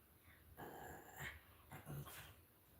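A dog growls low and close in a quiet indoor room, two or three short rumbling bursts with faint whimpering tones and no talk.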